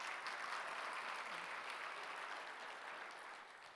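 Quiet applause from a medical symposium audience welcoming a doctor, a steady wash of hand clapping that holds evenly and then thins and fades toward the end, with no voices over it.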